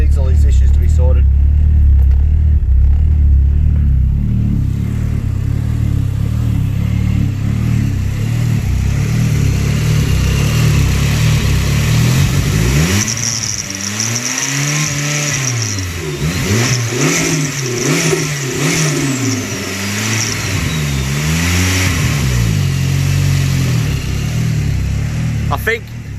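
A Ford Escort engine revs hard on a dyno during tuning, running rich. A loud, steady drone gives way to repeated rising and falling rev sweeps that keep going to the end.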